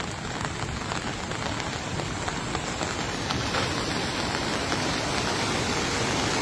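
Steady, heavy rain hisses and patters on a surface by a bridge over the Purna River, an even, dense wash of sound with no break throughout.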